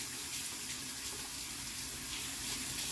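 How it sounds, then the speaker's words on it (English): A facial cleansing brush is rinsed under a running bathroom tap, giving a steady, even hiss of flowing water that continues without a break. "So then I rinse my brush off for one last good time."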